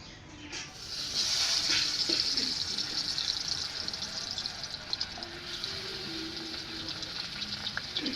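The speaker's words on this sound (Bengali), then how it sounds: "তেলটা আমার গরম হয়ে গেছে এবারে আলুটা দিয়ে দেবো" Potatoes fry in hot oil with a continuous close hiss and crackle, loudest at first and settling into a steady sizzle with small pops.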